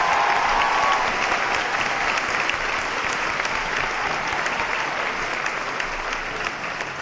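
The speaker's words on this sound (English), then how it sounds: "Let's give her a round of applause." A high school senior assembly audience applauds steadily and loudly for the full seven seconds, a dense, even wash of many hands clapping in a large room.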